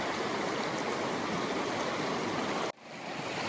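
A river rushes through a gorge, a loud, close, continuous wash of flowing water that cuts off sharply near the end before resuming, with no talk.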